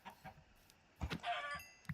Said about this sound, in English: There should be more chickens. I hear them.